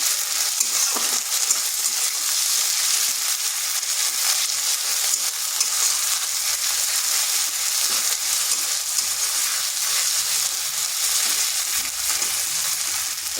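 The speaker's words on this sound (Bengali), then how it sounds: "এটাকে একটু ভেজে নিচ্ছি যাতে আদা রসুনের কাঁচা গন্ধটা চলে যায়।" Ginger garlic paste frying with onions in a pan gives a steady, close sizzle that crackles without pause throughout, with no talking.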